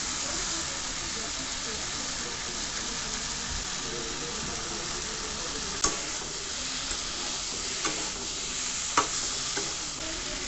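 Eggplant pieces hiss and sizzle steadily in a pan of frying spice paste for a Bengali vegetable curry with beans, potatoes and lentil dumplings. Occasional scrapes and clinks of the stirring spoon break through the sizzle, and no one talks.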